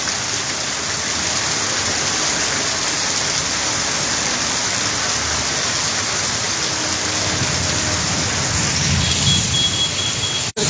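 Heavy thunderstorm rain falls on a street in Sylhet, a loud, constant roar of downpour without pause, with a faint low rumble near the end and no voices.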